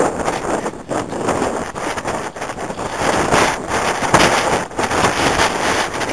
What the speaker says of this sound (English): The wind picks up and blows through this gap